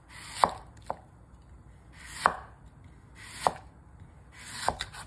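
A knife chops radish into thin julienne strips on a cutting board, with four or five sharp, separate knocks spaced about a second apart over a quiet background and no talking.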